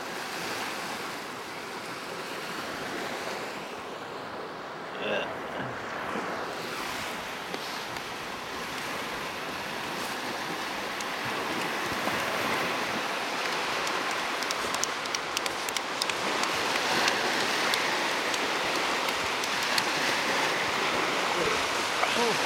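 Sea surf washes onto the shore on a Baltic coast, a continuous broad rushing of waves with some wind, steady and fairly close, growing slightly louder later on.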